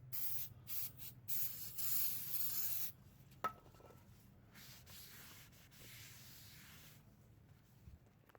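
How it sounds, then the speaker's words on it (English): Brake cleaner spraying onto a new brake rotor on a Mazda CX-5, in a few loud close hissing bursts of about three seconds, then quieter handling and faint clatter. "on new brake rotors, you want to use brake cleaner to clean off the anti-rust coating that it comes with"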